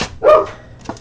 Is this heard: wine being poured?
no